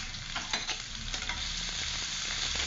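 Onion and green chili sizzling in hot oil as the first step of a potato and bottle-gourd-peel fry, a steady close frying hiss with a few light stirring scrapes and no talk.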